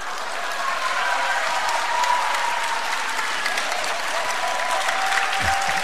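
A church congregation at a Sunday afternoon worship service rises in a standing ovation, dense sustained applause filling the room evenly and close for the whole stretch, with faint cheering tones mixed into the clapping.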